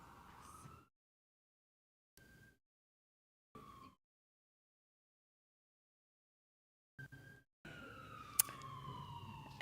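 Ambulance and fire truck sirens pass outside on a morning, heard in several brief wailing bursts separated by silence, then a longer, louder sweeping siren with traffic rumble near the end.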